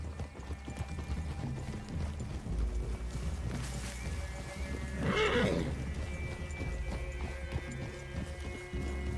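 Horses in Red Dead Redemption 2, heard as soft hoof clip-clop and shifting in a forest clearing, with a brief whinny or snort midway, fairly quiet under ambient game music.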